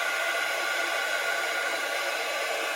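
A handheld heat tool blows over a glued paper journal card, giving a steady, close, even whoosh of air that holds without change for about three seconds.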